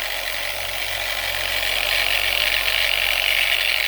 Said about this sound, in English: a foam pad with the abrasive on the top, and I'm running it at a fairly low speed